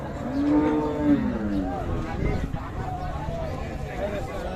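Sahiwal cattle with a calf at the Ambari cow market: one close, drawn-out low moo, then fainter lowing over a steady crowd murmur, with voices talking nearby.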